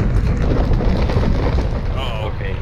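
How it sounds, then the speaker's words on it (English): A deep, rumbling volcanic eruption in a boat-sailing video game, a continuous loud low roar with heavy wind-like noise, and people talking over it. "No, that's volcano erupting over there."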